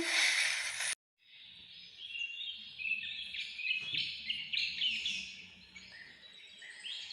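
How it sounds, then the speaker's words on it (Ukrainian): Several birds chirp and sing in overlapping, bright calls at a moderate distance, with no voices. "А так співають пташки."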